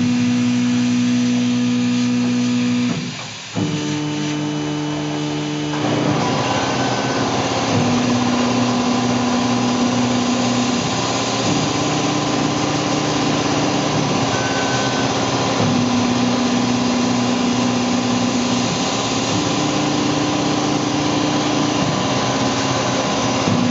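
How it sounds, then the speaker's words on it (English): Steady high-pitched machine whine from a Tormach PCNC 1100 CNC mill automatically tapping aluminum, with a repeating pattern of tones rising and falling, broken by a short pause early on, with no voices. "There's something mesmerizing about watching automated tapping like this."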